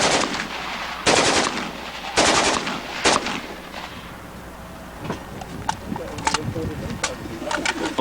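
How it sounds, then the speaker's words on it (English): Egyptian AK rifle fires on a shooting range in several loud, sharp bursts over the first few seconds, followed by scattered lighter pops and clicks at a distance, with birds cooing in the background. "This is the Egyptian AK, and this guns tend to be very reliable."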